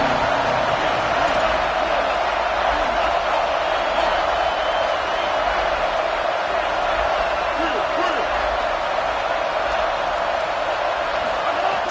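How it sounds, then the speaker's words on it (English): Dense roar of a football stadium crowd swelling steadily throughout, a loud, continuous wash of cheering and noise with no clear breaks, as fans rise to urge on their defense near the red zone. "This crowd rising up, sensing that its defense needs some help."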